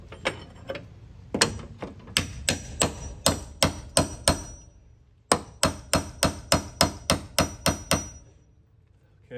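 Hammer blows on a wrench fitted to a rusted floor pan bolt of a 1971 VW Super Beetle, a steady run of sharp metallic strikes in two bursts of about eight to ten hits, close and loud with no talk.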